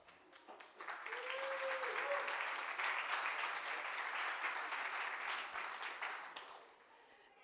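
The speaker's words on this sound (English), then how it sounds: "I'm very pleased to ask to the stage, hopefully with a big round of applause, Monica Brown to introduce Chris Capossela." Audience applause at the Marketing Hall of Fame 2023 ceremony: a broad, steady wash of clapping from a large crowd that swells in, holds for several seconds and fades toward the end.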